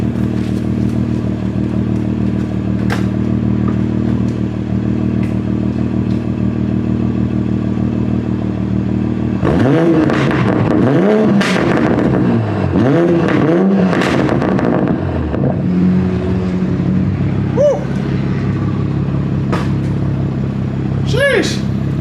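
A Toyota Supra engine sits at a steady idle, then is revved in several sharp rising and falling bursts midway, with clattering and mechanical noise, loud and close, before settling back toward idle.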